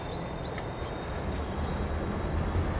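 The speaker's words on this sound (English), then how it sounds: "And off the train goes to Osada." Train departing in Farming Simulator 22, a continuous rumbling rail roll with a faint high whine, steady and moderately loud, slightly building toward the end, with no talking.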